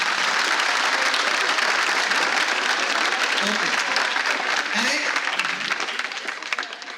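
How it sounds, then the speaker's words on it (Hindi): An auditorium audience at a motivational talk claps loudly and continuously, the dense applause tapering off toward the end, with a few voices mixed in. "पहले जोरदार आप लोगों के लिए तालियां बजाओ"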